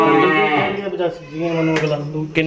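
A Sahiwal Jersey cross cow, a dairy cow up for sale, gives a long, loud, close moo with rich harmonics that dips and rises, then a shorter low moo, with brief sharper noises between.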